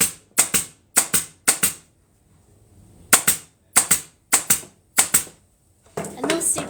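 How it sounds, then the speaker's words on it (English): A pneumatic staple gun fires staples through upholstery fabric into a chair frame, sounding as sharp, loud snapping shots in quick pairs and triplets, separated by short pauses, with a brief rustle at the end. "And now I can fill in the gaps between those staples."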